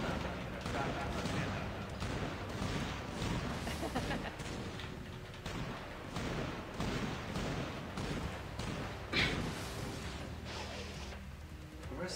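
Infamous 2 gunfire rattles steadily in repeated shots and bursts amid dense game action, with a voice talking over the shooting.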